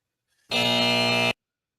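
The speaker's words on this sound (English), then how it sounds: "Did it just double buzzer?" Single sustained electronic buzzer from an NFL broadcast, a loud harsh tone lasting just under a second that starts abruptly and cuts off cleanly, alone in near silence.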